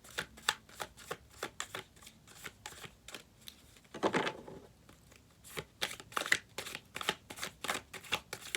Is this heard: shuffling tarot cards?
yes